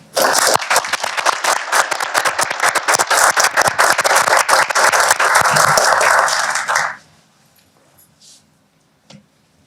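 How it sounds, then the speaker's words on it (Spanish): Loud, close applause from an audience at a political communication talk as a speaker is welcomed; strong, busy clapping for about seven seconds, then it cuts off to near silence with a few faint sounds. "Recibamos, damas y caballeros, por favor, con un fuertísimo aplauso al señor Julián Canarell."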